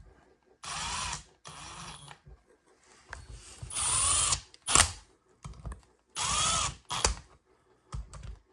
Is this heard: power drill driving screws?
yes